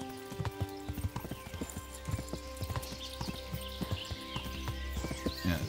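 Rhythmic hoofbeats of a galloping horse thud steadily and close in the video game Kingdom Come: Deliverance, with an occasional whinny over a continuous game-like background hum.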